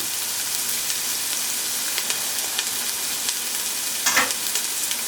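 Half a yellow onion fries in a pan for jackfruit tortas, giving a constant soft sizzle with faint crackles and one louder hiss near the end, no speech.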